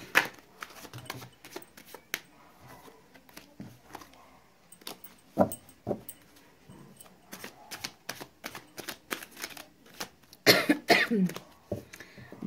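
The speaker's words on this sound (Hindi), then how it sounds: "बहुत ज़बरदस्त खांसी लगी हुई है गाइस मुझे" Someone coughs several times in rough, scattered bursts amid soft handling noises, with a louder fit near the end.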